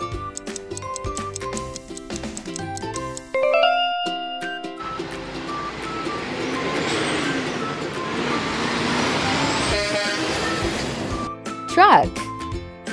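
Toy car matching puzzle playing a truck sound effect: a jingly electronic melody gives way to a rumbling engine drone, then a brief tune and a chirp at the end.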